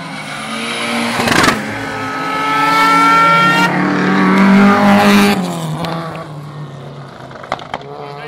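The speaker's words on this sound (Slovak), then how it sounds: "Ale teraz mu to už ide do väčších otáčiek." Autocross race car at an event in Oslany, engine revving loudly and climbing to higher rpm with rising and falling pitch, a brief tire squeal and roar as it passes fairly close, fading afterward.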